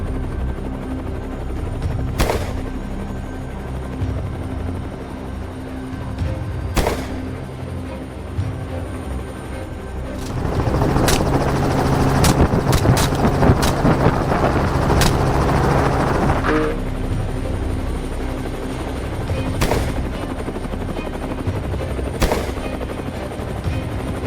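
A helicopter hovers and moves steadily overhead during a wild boar hunt on farmland, its rotor drone rising to a louder, denser roar midway before easing back, with a few sharp gunshot-like cracks punctuating the steady noise.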